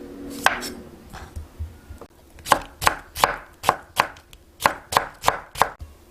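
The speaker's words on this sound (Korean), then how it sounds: "채소들은 이제 채 썰어줍니다" A knife julienning vegetables on a cutting board for a homemade yangjangpi dish. After a few scattered cuts it settles into an even rhythm of about a dozen crisp, close chops, loud and clear with no talking.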